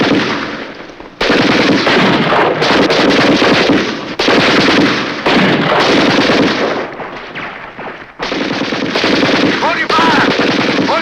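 Battle scene from a 1976 war drama with sustained heavy gunfire and artillery, loud dense bursts of rapid shots and booms running almost continuously with brief lulls between volleys.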